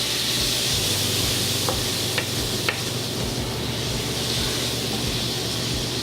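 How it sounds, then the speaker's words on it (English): King salmon cooks in a pan with white wine, giving a dense steady hiss of sizzling and steam that holds level throughout, with a couple of faint clicks and no talk. "this salmon is gonna cook really fast. And then we're gonna wet it with a little bit of white wine."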